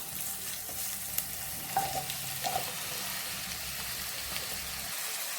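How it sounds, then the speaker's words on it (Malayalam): Onions frying in hot coconut oil in a pan, giving a continuous soft sizzle with a few light stirring taps, fairly quiet and close. "നമ്മുടെ ചട്ടി ചൂടായി വെളിച്ചെണ്ണയൊക്കെ തിളച്ചു ഇതിലേക്ക് നമുക്ക് സവാളയൊക്കെ ഇട്ട് കൊടുക്കാം"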